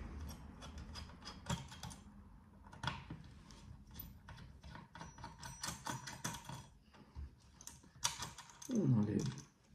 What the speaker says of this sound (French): On repart de ce côté de la machine et on vient enlever du coup la plaque de pression de la CPU